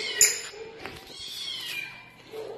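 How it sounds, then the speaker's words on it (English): Indoor cats give a few meows, one sharp and close near the start and then softer, drawn-out calls, in a quiet room with light household noise. "It's these two kitties."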